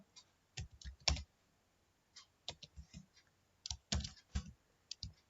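Keystrokes on a computer keyboard as a QBasic program is typed into QB64, coming in scattered clusters of sharp clicks separated by short pauses, close and fairly quiet, with no talking.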